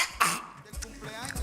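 A person imitates a dog coughing, giving a short, harsh throat-clearing burst followed by quieter hacking sounds and some vocal noise.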